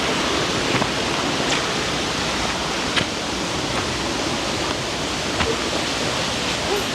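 A river with murky, brownish water flows nearby, a continuous broad rushing wash with small splashes and spatters and no voices.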